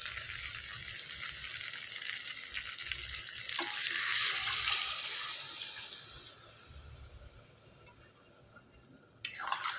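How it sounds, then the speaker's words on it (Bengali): Water is poured into a hot pan of frying potatoes and chicken, setting off a loud hissing sizzle that swells and then slowly eases, with a clatter near the end. "কষানো হয়ে গেছে, এবার জল দিয়ে দেবো।"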